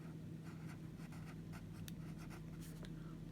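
A pen scratches on paper as hockey penalties are noted down during a tabletop game, making soft, close scribbling strokes over a steady low background hum.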